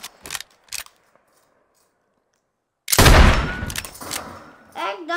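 Fortnite gunfire: a couple of quick sharp shots, a pause, then a loud sustained burst of rapid fire, with a voice breaking in at the end.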